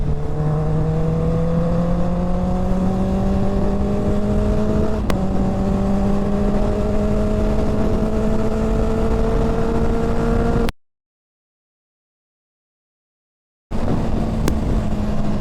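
A motorcycle or car engine held at high revs, close and loud, with steady harmonic tones rising slowly, then a sharp cutout to near silence before the revving returns.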